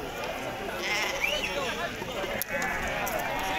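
Sheep bleat amid the bustle of a livestock market in Azrou, with a short clear bleat near the middle over steady crowd noise and voices nearby.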